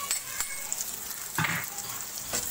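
Chopped garlic and ginger frying in a pan for a beef stew, giving a steady, close sizzle with a brief stirring clatter midway and no talking.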